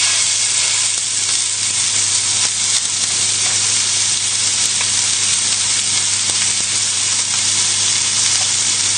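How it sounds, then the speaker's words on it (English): Pork tenderloin browning in hot oil in a pan gives a steady, loud, close sizzle and frying hiss that holds evenly throughout, with no voices. "straight in with the pork. And this will make a lot of noise,"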